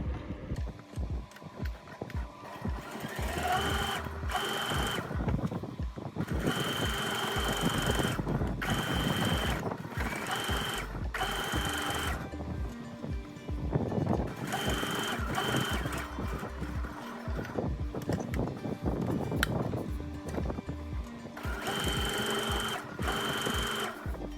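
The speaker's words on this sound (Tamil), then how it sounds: "இப்போ நான் இந்த ஓரம் தைக்க போகிறேன்." Sewing machine running edge stitches along a kameez hem in rapid bursts, its needle clatter starting and stopping repeatedly with short pauses between runs, close and fairly quiet.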